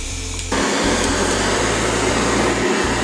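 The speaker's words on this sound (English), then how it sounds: "And then to use the torch, I've got a heavy duty one that you can get from a restaurant supply store." A heavy-duty restaurant-supply kitchen torch roars in a steady, loud, close broadband rush as it caramelizes sugar on crème brûlée, starting up abruptly after a short quieter moment and holding constant with no talking.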